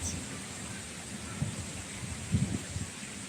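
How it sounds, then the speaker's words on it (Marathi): Heavy rain during a thunderstorm with lightning, a steady rain hiss with low rumbling swells of distant thunder near the end. "विजा चमका लागलेत पाऊस पडायला लागलाय"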